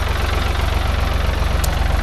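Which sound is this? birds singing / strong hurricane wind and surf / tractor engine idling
tractor engine idling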